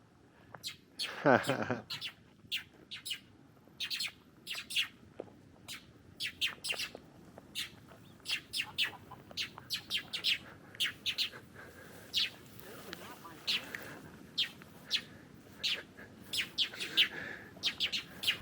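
Birds near their nests in reeds give repeated short, sharp chirps and tweets, scattered irregularly and at moderate distance over a quiet background, with one louder burst early on.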